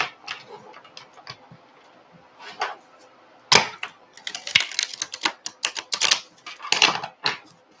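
A deck of cards being shuffled at a table gives short bursts of quick riffling clicks, sparse at first and then denser and louder in rapid fluttering runs, close and alone.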